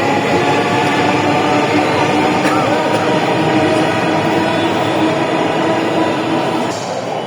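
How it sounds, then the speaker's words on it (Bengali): A metro rail train rushes past an elevated station platform, a steady loud roar and rumble throughout with faint high squeals, close and continuous. "ট্রেনটি দ্রুত গতিতে ছুটে যাচ্ছে"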